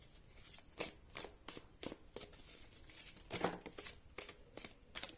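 Tarot cards being shuffled and drawn, a steady run of soft papery riffles and slaps with a brief louder flick partway through, close up and alone without talk.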